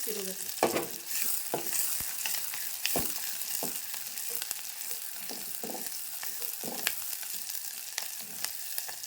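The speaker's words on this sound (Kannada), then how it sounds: "ಉಳ್ಳಾಗಡ್ಡಿ ಒಂದು ಸ್ವಲ್ಪ ಫ್ರೈ" Onions fry in a pan with a steady close sizzle, punctuated throughout by repeated scraping and clacking strokes of a stirring spoon.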